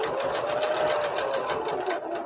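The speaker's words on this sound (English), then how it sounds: "Because it's just a regular sewing machine." A regular domestic sewing machine stitches through thick fabric while making a rope basket, a steady rhythmic whirring hum with needle pulses that runs continuously and slightly eases near the end.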